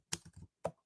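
A few quick keystrokes on a computer keyboard, close and quiet: a short cluster of clicks, a pause, then two more isolated taps, with no talking.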